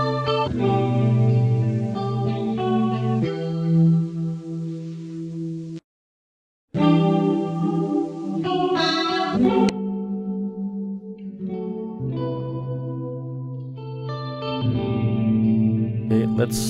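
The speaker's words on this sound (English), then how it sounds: "Stereoize globally. Guitar solo spread." Electric guitar solo spread wide with chorus-like shimmer and echo, bright sustained notes and quick runs, a brief silent gap partway through.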